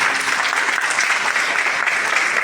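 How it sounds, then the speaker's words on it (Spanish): A church congregation at Iglesia Casa del Rey breaks into dense, steady applause that holds at full strength for a couple of seconds, close and loud with no talking over it. "Un fuerte aplauso."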